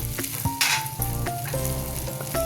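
Butter sizzling onto hot charcoal set in a small foil bowl, with a sharp hissing burst early on over a steady crackle and a few clicks and scrapes close by.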